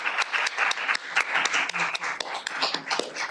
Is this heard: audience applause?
yes